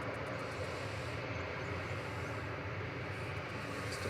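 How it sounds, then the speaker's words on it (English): A Ryanair airliner touches down at Manchester Airport, its steady, fairly faint broadband rumble and rush holding evenly without voices. "Touching down, there's another Ryanair."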